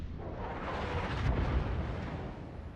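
Incoming rounds burst in a naval video game, a low rumbling explosion that swells to a heavy peak midway and then trails off into a dull roar.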